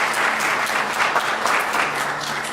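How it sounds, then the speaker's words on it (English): Audience applause at an American Indian regalia showcase, a brief burst of full, steady clapping from a sizeable crowd that fills the room at a fairly loud, even level. "Once again, a round of applause."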